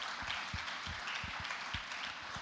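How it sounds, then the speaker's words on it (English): Audience applause at the African Union MSME Forum 2025 opening ceremony, honoring the Vice President; a faint, steady wash of distant clapping with a few louder low thumps, heard from afar. "with a resounding applause, let us clap for His Excellency the Vice President"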